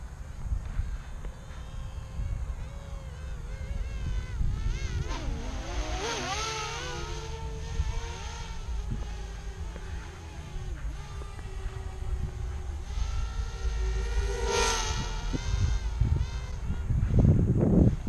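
A small DJI Spark drone whines at high speed in sport mode, its propeller buzz sweeping in pitch as it darts near and away over wind rumble, with some talking at times.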